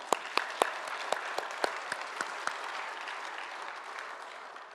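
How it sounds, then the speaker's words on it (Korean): A church congregation gives a round of applause for a sports team and its players, starting with a few sharp, distinct claps before settling into a softer, steady patter. "우리 선수단과 선수들에게 잘했다고 박수 한번 쳐줄까요?"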